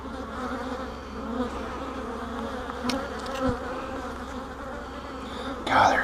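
A dense swarm of honey bees hums steadily over brood frames lifted from a hive that is raising queen cells, a close, continuous drone with a brief louder rustle near the end.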